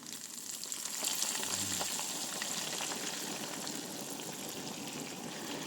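Crucian carp frying in a pan, a loud, dense, continuous crackling sizzle that swells at the start and then holds steady, with no talk over it.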